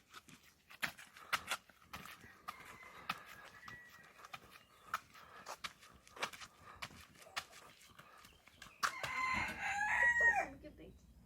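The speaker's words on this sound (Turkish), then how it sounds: "Şu güzel horozumuzu da göster." A rooster crows loudly near the end, in a village in Trabzon, following a stretch of sharp, scattered clicks and knocks close by.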